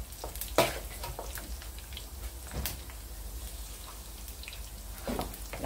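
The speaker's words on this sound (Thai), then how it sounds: "เป็นการทอดรอบที่2ค่ะให้น้ำมันเดือดก่อนนะคะให้น้ำมันร้อนๆเลยค่ะ" Pork rinds on their second deep-fry pop and spatter in very hot oil, a dense close crackle with a few louder bursts and scrapes of a utensil, no voices.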